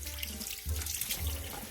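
Tap water runs into a measuring cup for baking a giant cupcake, a steady close splashing stream with a deeper gurgle as the cup fills, no voices.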